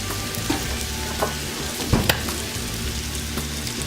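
Eggs sizzle and crackle in a pan over lowered heat with a chorizo, poblano and Yukon Gold sweet potato hash, a close, steady frying hiss with a few sharp scraping or stirring clicks.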